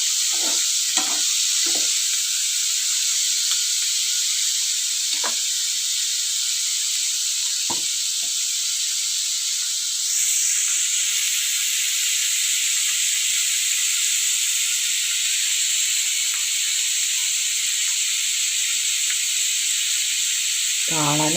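Dried red chillies sauté in a pan for a curd tomato curry, giving a steady, close sizzle and hiss that runs throughout, with a few brief clicks and stirring knocks early on and no talking.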